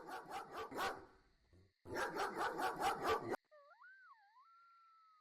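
A dog in a Roblox game barks in quick rhythmic bursts, pauses briefly, then barks again, followed by a wavering whistle-like electronic tone.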